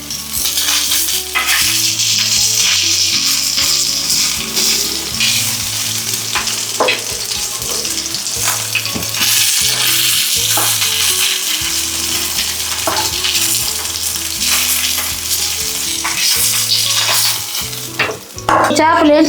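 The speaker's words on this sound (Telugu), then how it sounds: "చేపలో మసాలా వేసి వేయించుకుందాం" Fish coated in masala frying in hot oil for a coriander fish curry, giving a loud, steady sizzle with stirring that runs the whole time, with no one talking.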